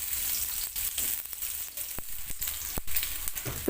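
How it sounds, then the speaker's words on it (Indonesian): Shallots and garlic sizzle steadily in hot cooking oil, a constant close frying hiss broken by a few sharp pops and faint stirring sounds, with no voices. "Tumis bawang merah dan bawang putih hingga layu dan aromanya harum."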